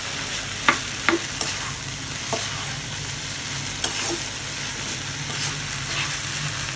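Noodles get stirred through a spice mix in a hot pan, scattered scraping and tapping knocks from the utensil over a soft continuous sizzle, with no talking.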